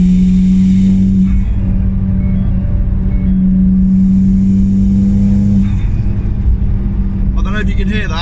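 A Toyota Celica ST180 engine runs steadily and loudly up close. Its tone rises and shifts partway through, and the rough note suggests a charge pipe may have popped off. Some indistinct voice sound may sit under the engine.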